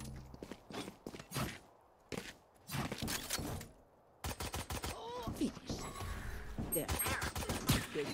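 Gunshots in the tactical shooter Valorant snap out as rapid, sharp bursts and short volleys, punctuated by gaps of near quiet and followed by busier game action and footsteps.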